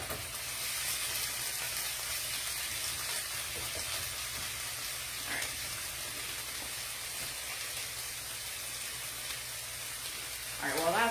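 Food sautés in a pan on the stove, a steady hiss and crackle like light rain running evenly throughout, with a brief scrape of stirring near the end.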